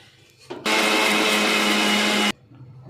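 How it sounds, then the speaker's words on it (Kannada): A kitchen mixer grinder whirs at full speed, blending ground sambar masala with rasam powder and a little water for cucumber sambar; a loud, steady motor roar runs for under two seconds, then cuts off abruptly. "ಎಲ್ಲ ಮಿಕ್ಸಿಗೆ ಹಾಕಿ ಈ ಥರ ಫುಲ್ಲು ಮಿಶ್ರಣ ಮಾಡ್ಕೊಂಡಿದ್ದೀವಿ"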